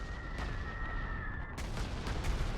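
Artillery fire rumbles through a Panzer Corps 2 strategy game battle on the Bug River, dense continuous booming and blasts with a sharp burst midway and heavier impacts toward the end.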